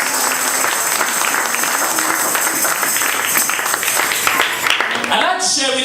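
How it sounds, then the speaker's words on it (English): A church congregation claps and cheers during a worship service, a sustained, lively wash of hands and voices throughout, with a sudden shift near the end as the noise breaks off. "Clap your hands and make some noise for Jesus"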